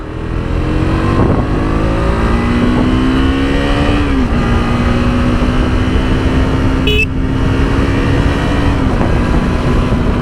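A KTM RC 200 motorcycle accelerates hard, its engine climbing steadily in pitch through the gears with a brief drop at a shift, loud and close, with continuous wind noise and no talking.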